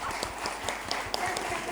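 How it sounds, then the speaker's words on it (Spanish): Audience applause at a book fair talk on women's role in politics, a dense steady patter of clapping that fills the whole short stretch with a few sharper claps standing out. "Así que un aplauso para José."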